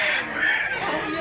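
Rooster, a one-year-old gamefowl at a rooster sale in Mantalungon, Barili, Cebu, crowing in a loud, sustained, strained call that fills the whole moment, close to the listener and with no talk over it.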